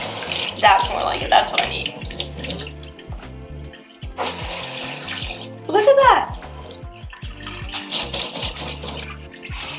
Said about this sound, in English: The sink is on, I've left it on.